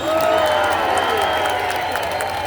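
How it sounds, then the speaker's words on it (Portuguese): Crowd at an outdoor political rally in Belo Horizonte applauding and cheering, a dense, steady wash of clapping and voices sustained at even loudness throughout. "Uma salva de palmas."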